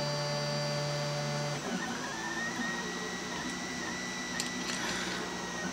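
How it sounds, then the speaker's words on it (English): A CTC 3D printer kit rebuilt with linear slide rails whirs steadily as it begins extruding filament, stepper motor tones shifting partway through, with faint ticks near the end and no talking. "it's starting to emit filament now"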